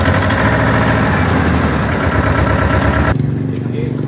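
A tractor fitted with a fibre canopy and lights idles loudly at night, its close, steady chugging rumble holding evenly before the higher tones drop away abruptly near the end.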